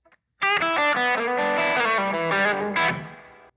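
A distorted electric guitar plays a quick pentatonic blues lick, bent and picked notes, loud and close, ending on a sustained note that fades.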